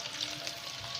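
Onions browning in a pan for sarson ka saag, a steady, fairly soft sizzle with light crackle that holds even through the short stretch, no voices over it.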